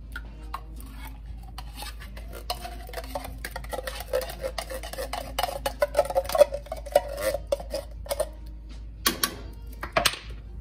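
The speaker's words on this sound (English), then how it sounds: "I'm just gonna give this a good stir." A spoon scrapes and stirs through thick, hearty cheeseburger soup with crushed tomatoes in a pot, producing irregular close scraping and soft knocks against the pot over several seconds.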